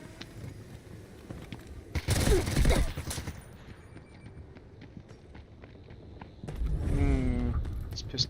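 Pistol shots ring out in Delta Force gameplay as a few loud bursts of gunfire amid game noise, with a voice speaking between them.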